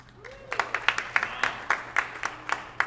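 Thin applause from a small audience at a school band concert, a dozen or so evenly spaced, crisp claps that stand out clearly against a quiet room.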